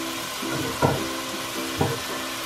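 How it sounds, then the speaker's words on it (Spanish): Chopped onions sizzle steadily in a pan for Chinese fried rice with shrimp, with two distinct scraping knocks of a utensil stirring them about a second apart. "Ahora le voy a mezclar también las cebollas que corté."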